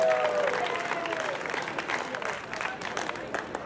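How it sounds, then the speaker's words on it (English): Audience applause at a senior queens pageant during Olde Canal Days, a steady wash of clapping from a crowd with a brief voice or tone at the start, continuing evenly throughout. "Let's give them a round of applause."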